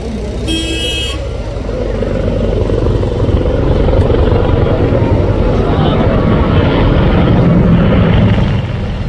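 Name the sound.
helicopter flying at an air show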